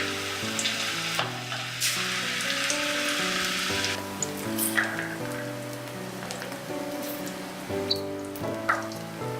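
Wheat pakoda batter fries in hot oil with a continuous crackling sizzle, heaviest in the first few seconds and then bubbling on with occasional sharper pops, heard close over soft background tones.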